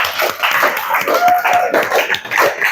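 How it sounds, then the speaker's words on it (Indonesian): Vocational school students in a classroom clapping for their classmates during an accounting lesson, a close, loud run of rhythmic handclaps lasting the whole moment. "Kita kasih tepuk tangan dulu buat teman-temannya."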